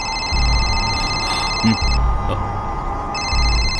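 A telephone rings in two long electronic bursts separated by a pause, loud and close.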